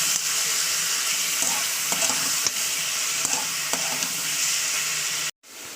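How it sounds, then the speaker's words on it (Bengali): Mutton pieces fry in oil in a pan, a dense steady hiss and sizzle with occasional sharp clinks and scrapes of stirring, close up, before a sudden brief silence near the end and the sizzle resumes. "আমি মাংসটাকে ভালো করে একটু তেলে ভাজা ভাজা করে দেবো"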